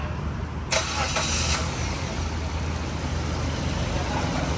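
A car engine cranks and catches in a brief burst, then settles into a steady, fairly quiet idle that carries on to the end.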